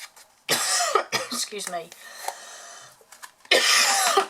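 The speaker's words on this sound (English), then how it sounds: "Still a naughty cough." A couple of harsh coughs, one at the start and another near the end, with a person briefly speaking in between.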